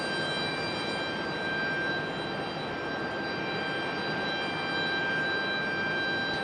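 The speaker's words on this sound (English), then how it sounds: "Got a little E175 American sitting at the end of the runway, waiting its turn for departure." An American Airlines Embraer E175 regional jet sits idling at the end of the runway, producing a constant distant engine drone with a steady high whine riding above the broadband hum, and no voices.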